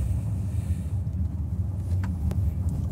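A heavy Zeekr 001 electric car on low-profile tires rolls over a rough road, giving a steady low tire and suspension rumble from inside the cabin with a couple of brief clicks, no engine noise.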